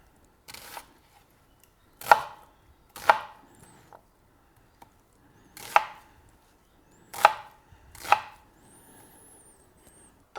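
An onion for stock vegetables is chopped on a board in six separate, sharp knife strikes, spaced irregularly with near silence between them.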